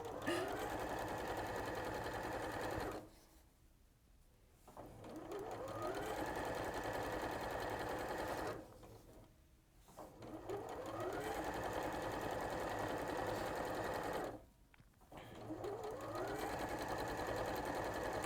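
A sewing machine runs in three long bursts of steady stitching along a quilted bag seam, each burst cut by a short pause before it starts again, loud and close with no talk over it.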